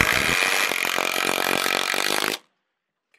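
Hitachi triple hammer impact driver drives an off-brand T25 framing screw into lumber, a loud continuous rapid hammering buzz for over two seconds that stops abruptly into silence.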